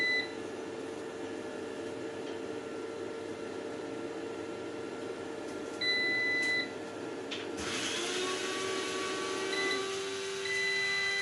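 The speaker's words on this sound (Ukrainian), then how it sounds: "Інвертор начебто запускається, пише версію прошивки, продуває вентиляторами." A MUST PV-1800 solar inverter with a fault that makes it switch itself off starts up with several short electronic beeps over a steady hum, then its cooling fans kick in with a louder rushing whir.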